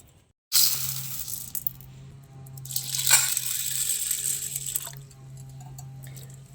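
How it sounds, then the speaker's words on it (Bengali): Clean water runs from a tap onto chana dal (split chickpeas) as it is washed, a steady splashing stream. The flow swells briefly partway through, with small drips and clinks, up close and with no talking. "এবার আমি পরিষ্কার জল দিয়ে এটা ধুয়ে নেব।"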